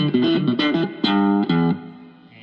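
Electric guitar through a Joyo Oxford Sound overdrive pedal, played as a few distorted strummed chords that ring and then cut off, close and loud with no talking.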